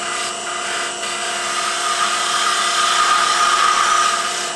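A gouge cutting a wine stopper on a wood lathe gives a loud, continuous whirring hum with a high, steady tone, sustained throughout without talking.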